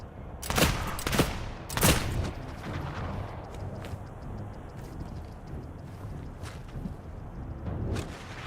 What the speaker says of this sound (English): I think these guys are just shooting anything they can.